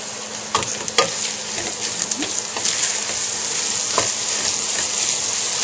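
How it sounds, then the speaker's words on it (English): Chopped onion frying in a pan for lasagna, a continuous bright sizzle with scattered crackles and a few soft clicks of stirring, moderately close and without talk. "I'm going to add about a little more than half a cup of chopped onion. Raise my fire just a little bit, get that going"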